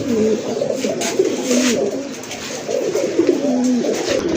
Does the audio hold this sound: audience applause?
no